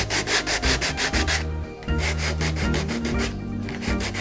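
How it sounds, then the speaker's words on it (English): Hand sanding of a stenciled wooden box, close rhythmic rubbing strokes repeating quickly, pausing briefly, then resuming in steady back-and-forth passes. "We're sanding down a bit"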